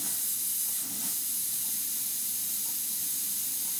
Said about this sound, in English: Use the air from the airbrush to dry it out a bit.